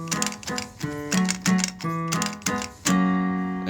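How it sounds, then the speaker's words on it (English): Notes and chords played on a Janko keyboard ring out with a clear pitched tone, the keys struck in a steady, uneven run of separate hits that ends in a held, sustained chord, with no voices. "This is a Janko keyboard."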